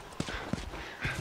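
Horse hooves clip-clopping in the video game The Last of Us: a few hollow, uneven hoof strikes at moderate distance, fairly quiet, with little else around.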